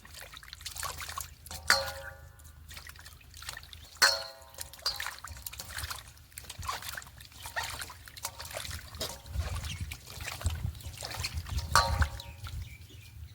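Hot water trickles and splashes in uneven pours over washed fish in a kitchen bowl, close and moderately loud, with a few brief louder splashes.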